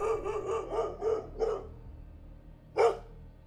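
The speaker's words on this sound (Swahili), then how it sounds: "Mbwa wanabweka hovyo." Dogs bark in the night, a run of five quick, fairly close barks followed by a pause and then one louder bark, with no one talking.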